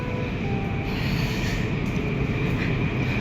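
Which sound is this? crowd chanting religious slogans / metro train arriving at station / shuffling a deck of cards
metro train arriving at station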